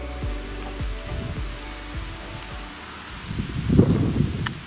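Wind gusting outdoors on a hilltop hike along a ridge near Freden, a steady low rumble buffeting the microphone with a few louder gusts, and no talk.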